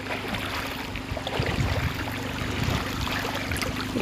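River water rushes and churns continuously, a steady outdoor wash of current with faint gurgles throughout.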